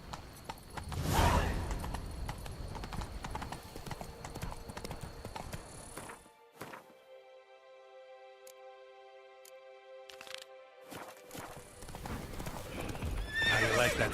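A horse in The Witcher 3 gallops with rapid rhythmic hoofbeats and lets out a loud whinny near the start, then a quieter stretch of game music before the hooves pick up again.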